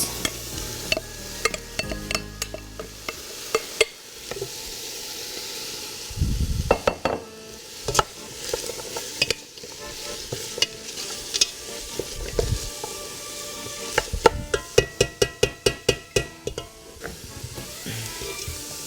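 Mushrooms for a vegetable lasagna go into a hot pan and are sautéed. Sizzling runs under repeated utensil scrapes and sharp clinks against the pan, with a quick burst of taps toward the end, close and moderately loud.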